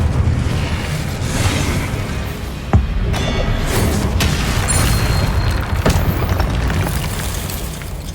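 Fiery Incendio spell blast cast in the Hogwarts Legacy video game, a steady loud roaring rumble with a sharp bang near the middle and another burst later, no talking.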